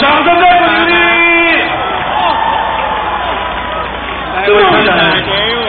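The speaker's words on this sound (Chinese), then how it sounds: "掌声再鼓励" A large outdoor crowd at the Taipei 101 New Year fireworks show cheers, whoops and claps in a loud, sustained roar, with voices rising and swelling near the end.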